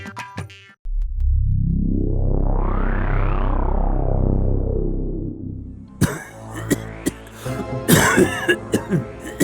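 A cartoon king coughs in a long, loud, exaggerated fit with a rising and falling wheezy tone, followed by a few shorter harsh coughs and throat clearing.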